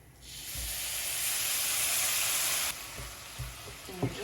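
Rice toasting in a hot pan for asparagus risotto, a loud steady sizzle that holds for a few seconds, then drops off sharply, leaving quieter crackles and a few light clinks of a utensil.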